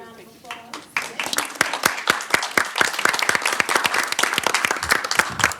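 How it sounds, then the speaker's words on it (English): A school board work session audience gives a round of applause for the parents of student board representatives, dense clapping building after a brief moment and holding steady and fairly loud, with voices mixed in at the start. "Give them a round of applause."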